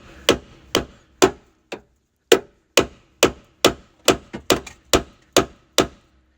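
Worn door pin bushings on an S10 Blazer take a run of about a dozen sharp, close hammer blows in an uneven rhythm, each metallic strike ringing briefly before the next, with no talk.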